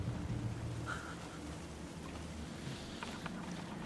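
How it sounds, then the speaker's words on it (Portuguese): Rain falls in the horror video game Alan Wake II, a steady hiss of drops under a low rumbling drone, continuous and fairly soft, with no voices. "Tá chovendo."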